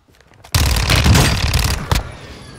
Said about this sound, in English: please stop shooting me across the map